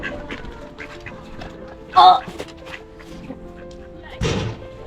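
A couple of short duck quacks, one loud and one fainter later, amid people chatting quietly outdoors.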